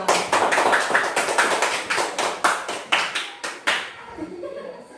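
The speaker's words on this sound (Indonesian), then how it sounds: "kita beri tepuk tangan" Schoolchildren in a fourth-grade classroom clap for a student group, a loud, closely miked burst of rhythmic applause that loosens into a few scattered claps before fading out.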